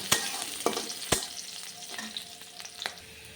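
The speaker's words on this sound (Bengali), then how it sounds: "লাল লাল করে ভেজে নেবো" Onion, garlic and green chili fry in oil in a pan with a steady sizzle, punctuated by several sharp spatula taps and scrapes against the metal, close and without speech.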